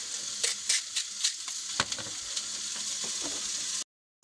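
A steak seasoned with salt, pepper and garlic powder fries in a pan, giving a steady close sizzle with scattered crackles and scraping stir sounds, no voices, before a brief cutout at the end.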